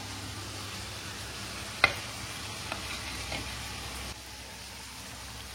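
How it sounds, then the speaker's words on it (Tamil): Masala-coated paneer frying in oil, a quiet, continuous sizzle with a sharp clink early on and a few faint knocks. "இப்ப வந்து நல்லா ஃப்ரை பண்ணி எடுத்துக்கலாம்"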